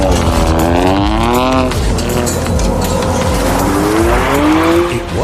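A Toyota GR Yaris, a 257-horsepower turbocharged rally homologation hatchback, drives hard on a race track with a loud, rising and falling engine note and tire squeal, and the revs sweep up and down throughout.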